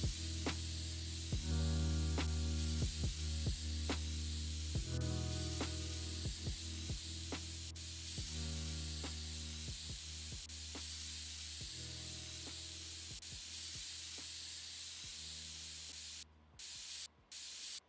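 Compressed air blasted into a PC case in long loud hissing bursts with brief pauses, joined by a steady low mechanical hum and a few clicks, ending in short cut-off gaps.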